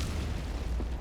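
A deep, rumbling boom from an orbital strike explosion in Helldivers 2, a sustained heavy low roar filling the whole moment, loud and close with no voices.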